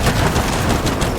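Turret gunfire in the Gears 5 video game pours out as a dense, loud, continuous stream of rapid shots, the bursts blurring into one another without a pause.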